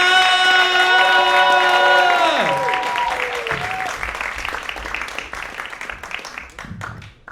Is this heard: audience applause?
yes